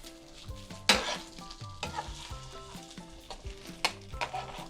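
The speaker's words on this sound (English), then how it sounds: "We're gonna stir them up a little bit and make sure we get them just done a little bit." Summer vegetables for a quinoa dish stirred in a hot pan, with steady sizzling and frying broken by sharp scrapes and clatters of the utensil against the pan, close up and with no talking.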